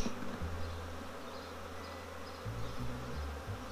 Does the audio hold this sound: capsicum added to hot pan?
no